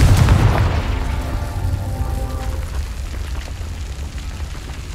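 A Confringo blasting spell detonates in Hogwarts Legacy, a loud booming explosion at the start that rumbles and fades into a long low decay with lingering crackle.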